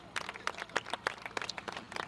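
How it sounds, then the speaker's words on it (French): An audience claps for schoolchildren at the launch of school sports in the Sédhiou academy, a quiet, uneven patter of separate hand claps close by with no voices. "Je voudrais qu'on applaudisse les élèves."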